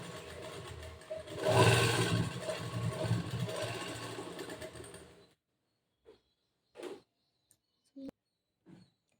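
A sewing machine stitching over a folded fabric edge runs in a loud, steady whir for about five seconds, then stops. A few short knocks and clicks follow in near silence.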